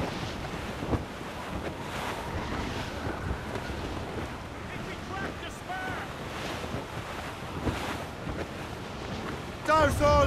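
Sailing ship at sea near Anticosti Island in Assassin's Creed: Rogue, steady wind and rushing waves against the hull throughout, with voices speaking over the sea noise.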